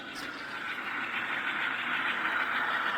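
Atlas Classic RS3 model train locomotive with a sound decoder idling on a layout, a steady, fairly loud mechanical engine drone and hiss held evenly throughout, with no talk.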